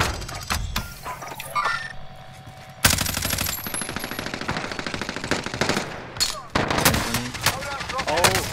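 Rapid automatic gunfire in a first-person shooter video game, with repeated loud bursts of shots and mechanical clatter across the clip, sometimes pausing briefly between volleys.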